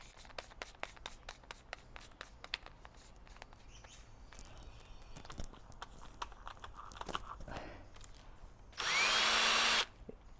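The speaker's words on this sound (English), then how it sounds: "I have my power drill, and I also use this for this great big huge drill bit" A power drill fitted with a very large drill bit whirs loudly and steadily for about a second near the end, after scattered clicks, taps and light handling sounds.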